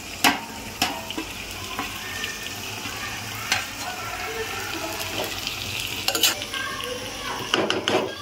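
Mixed fish stirred into a hot oil tempering for a village-style khengat, with steady close sizzling and frying hiss broken by repeated metallic clanks of a spoon against the pot.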